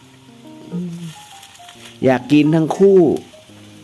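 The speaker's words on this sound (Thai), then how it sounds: "หลังจากนั้นใส่เห็ดออรินจินะฮะ หั่นกับเห็ดหูหนูลงไปด้วยนะครับผม" Sliced eryngii and wood ear mushrooms hit a pan of frying marinated pork, a low background sizzle heard mostly beneath someone speaking in short phrases.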